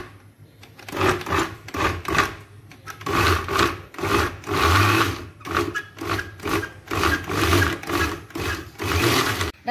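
A food processor on mix setting churns shredded pork in repeated rough bursts, loud and close, grinding and rattling, with brief pauses between pulses.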